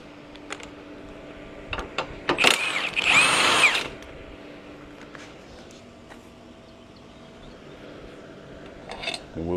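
A power tool spins out a bolt on a 2014 Nissan Altima engine during valve cover and engine mount work: one loud, close whirring burst of about a second and a half, with scattered clicks and clanks before and after.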